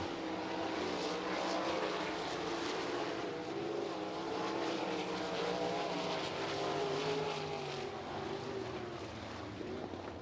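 360 sprint cars racing toward the checkered flag at the end of a heat race at I-90 Speedway, a continuous engine drone with rising and falling whine as the cars sweep past at a distance.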